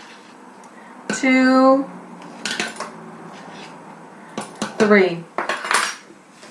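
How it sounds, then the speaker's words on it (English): A metal measuring spoon scrapes and clinks against the edge of a can in short bursts, close up. A voice talks between the clinks. "Now I usually use the edge of the can to brush that off."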